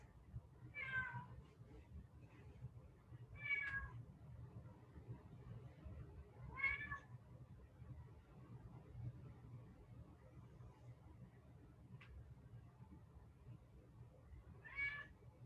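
A house cat meows four times at intervals of roughly three seconds, each call short and clear, set against a quiet low room hum in a home exercise session, with a faint extra chirp between.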